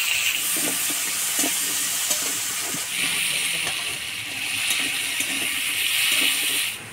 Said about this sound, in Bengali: তেলের মধ্যেই আলুগুলো ভাজিয়ে নিব।